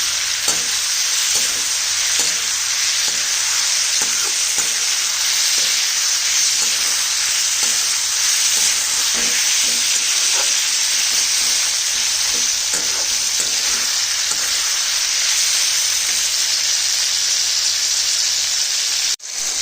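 Mushrooms sautéing in a hot pan on a gas stove, a loud continuous sizzle with repeated stirring scrapes in a steady rhythm, close up and without talk.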